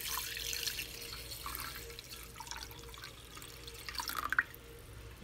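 Water poured into a pot while making rice congee, a soft steady trickle and splash with a few louder drips toward the end, close and fairly quiet, with no voices.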